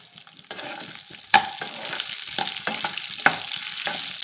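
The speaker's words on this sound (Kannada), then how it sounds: "ಒಂದು ದೊಡ್ಡದು ಈರುಳ್ಳಿ ಕಟ್ ಮಾಡ್ಕೊಂಡಿದ್ದೀನಿ ಇದು ಹಾಕ್ಕೊಳ್ತಾ ಇದ್ದೀನಿ ಎಲ್ಲ ಫ್ರೈ ಮಾಡ್ಕೋಬೇಕು ಚಟ್ನಿಗೆ" Chopped onion and green chillies frying in oil for a red tomato chutney, a continuous close sizzle with several sharp scraping stirs and clinks of a spatula against the pan.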